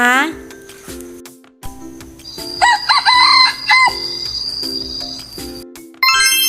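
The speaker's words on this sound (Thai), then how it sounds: "ถูกต้องแล้วค่ะเสียงของพี่ไก่ค่ะ" A rooster crows once, a loud drawn-out call over light background music with chiming tones.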